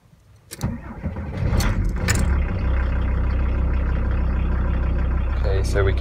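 A diesel engine in a vehicle being fitted with a split-charge leisure battery cranks briefly, then catches and settles into a steady, close, rumbling idle that continues to the end.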